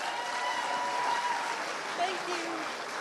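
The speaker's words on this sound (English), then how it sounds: "Can we give her another round of applause?" An audience at a New York talk event applauds steadily for about three seconds, a dense wash of clapping at moderate distance with no talking over it.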